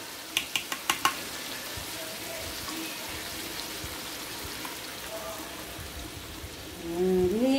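Coconut milk is added to kampung chicken rendang cooking in a pan. A few clinks of a utensil against the pan come first, then a steady, soft sizzling and stirring bubble up close, with a brief voice near the end.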